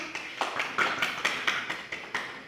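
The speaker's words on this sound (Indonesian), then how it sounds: "kita kasih aplaus dulu buat Amanah" Light applause for a student in a math class, a few sparse claps in a steady, even rhythm, fairly quiet and without talk.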